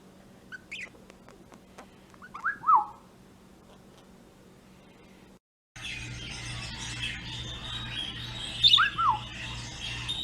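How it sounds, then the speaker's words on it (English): Wild birds calling outdoors: a few short, sweeping chirps at moderate distance, one early and one late, over a low steady background hum with no talking. "Birds."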